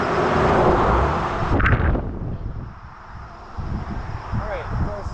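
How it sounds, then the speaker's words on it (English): A car passes on a road beside an outdoor rock outcrop, a broad rushing swell that peaks and fades within the first two seconds, followed by wind buffeting and a person talking. "So watch out for the cars coming in."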